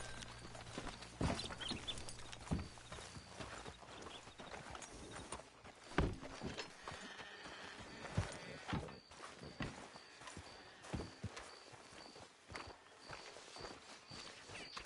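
Horse hooves clip-clopping in the Western video game Red Dead Redemption 2, a steady walking rhythm of clear hoof strikes with a few louder knocks as riders slow to hitch up; no voices over it.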